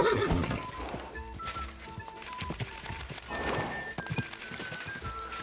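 A horse whinnies and snorts over clip-clopping hooves in Kingdom Come: Deliverance II, with thuds and shifting movement close by, all in a lively game-like soundscape.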